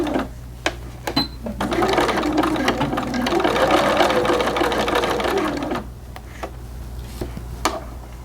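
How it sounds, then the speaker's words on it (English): A sewing machine stitches a quarter-inch seam on a small pleated doll skirt, running in a fast, steady buzzing burst of about four seconds between scattered clicks and handling noises. "you're going to sew 1/4 inch seam allowance to that end and backstitch"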